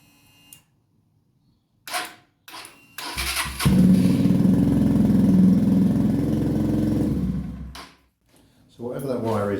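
A motorcycle is tested for starting after a wire is removed: a few clicks, then the engine cranks, catches and runs steadily and loudly for several seconds before cutting out, with a voice briefly heard afterward.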